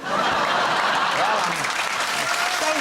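Studio audience at a chat show clapping steadily throughout, a dense sustained wash of applause with scattered laughter mixed in.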